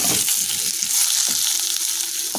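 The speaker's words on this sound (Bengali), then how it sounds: "এবার আলুগুলো একটু ভালো করে ভেজে তুলে নেব আমরা।" Potato pieces frying in hot oil in a pan, a loud, continuous sizzle with occasional stirring scrapes and no voices.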